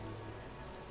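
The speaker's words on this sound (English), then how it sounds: "This rain will not let up anytime soon." Steady rain falls in the video game Disco Elysium, a dense, even patter of drops that continues without pause and without any voices.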